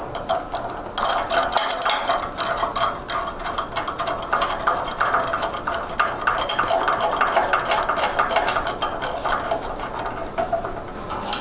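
Wrench tightening a washer and nut on a long connector bolt: steady, close ratcheting clicks that run almost without a break, loud and unaccompanied by voices.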